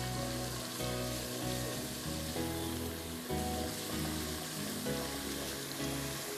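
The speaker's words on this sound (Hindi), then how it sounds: "चॉप्ड जिंजर मैंने इसमें 2 टेबलस्पून डाल दी और इसको 1 मिनट तक मैं फ्राई करूँगी" Chopped ginger frying in a pan for a ginger chicken dish, a steady close sizzle running throughout with some layered tonal background underneath, no talking.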